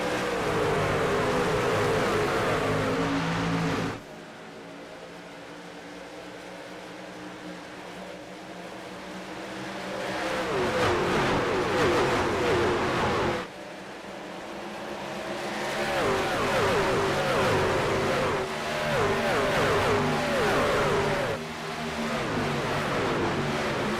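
Engines drone and buzz as a pack of race trucks in a simulated Truck Series playoff race at Homestead rev, fade and swell again with shifting pitch, loud and continuous, with abrupt cuts between viewpoints.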